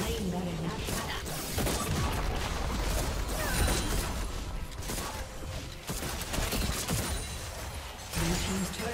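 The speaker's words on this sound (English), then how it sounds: "Blue team's turret has been destroyed." A turret is destroyed during a League of Legends match with Samira, Renata Glasc, Varus and Ashe, amid dense, loud game combat effects of bursts, crashes and whooshes, with a voice speaking over the action.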